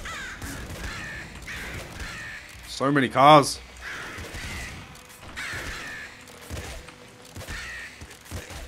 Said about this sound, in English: The crows really piss me off sometimes.